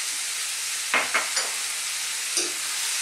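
A metal spoon clattering against a cooking pot while stirring Filipino callos with tomato and onion, a few sharp clinks over a steady background sizzle, no talk.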